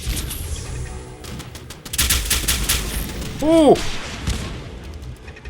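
Automated turrets fire in the game Fallout 4, a loud burst of rapid shots with a sharp, whining sweep close by, as a voice briefly exclaims.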